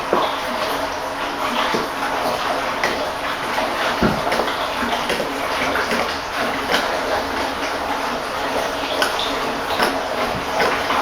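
Used fish and chip shop cooking oil poured from a container, a continuous splashing, gurgling pour with occasional clinks and knocks, close and fairly loud, with little or no talk.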